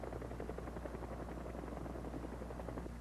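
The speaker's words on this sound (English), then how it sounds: "At all times, helicopter engines are being started or are running." Helicopter engines starting or running at a flight line during refueling operations, a steady loud rotor and turbine drone with rhythmic blade chop throughout, no voices.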